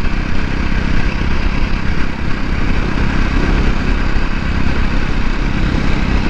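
A Jawa 42 motorcycle engine on the move, a constant loud drone mixed with rushing wind and road noise, steady from start to end with no talking.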